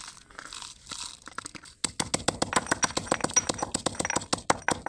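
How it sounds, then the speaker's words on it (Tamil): Coriander seeds, cumin and dried chillies pounded in a stone mortar for rasam, with a rapid steady run of close, sharp crunching thuds after a few slower opening strikes. "கொத்தமல்லி சீரம் மிளகாய் இதை மட்டும் முதல்ல போட்டு இடிச்சுக்கோங்க"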